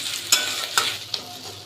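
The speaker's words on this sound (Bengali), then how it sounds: "এখন আবার কিছুক্ষণ ভাজা ভাজা করবো।" Onion, ginger-garlic paste and chopped tomato fry in a pan with a steady, close sizzle. Three spoon scrapes come at roughly even intervals, and no one talks.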